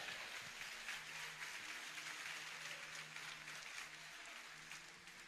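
A church congregation applauding loudly at a Lagoinha Barra Funda service, dense sustained clapping filling the room throughout, with a low steady hum beneath and no talk over it.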